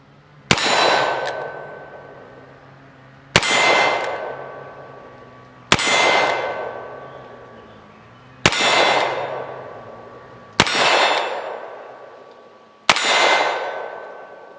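Six Colt Official Police .38 Special revolver shots ring out on steel targets, each a sharp crack with a bright metallic clang that rings and decays over a couple of seconds, evenly spaced outdoors.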